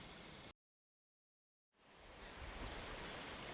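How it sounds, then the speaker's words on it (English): A quiet, trickling river at its confluence with Chatto Creek, site of a former gold dredge, gives a soft, steady wash of flowing water. The water sound cuts out briefly into silence, then returns. "this quietly trickling river"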